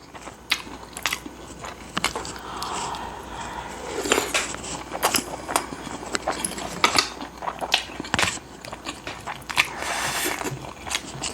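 Close, crisp bites and wet chewing of fried seaweed rolls (gimmari) eaten with black rosé tteokbokki, irregular crunches and crackles repeating throughout with no talk.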